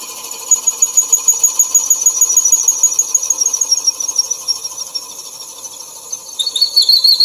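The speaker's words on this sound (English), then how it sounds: "Turn the lathe on." A wood lathe spins while a hole is drilled into a draw knife handle, giving a steady high whine with rapid pulsing bursts throughout and a sharper squeal rising near the end.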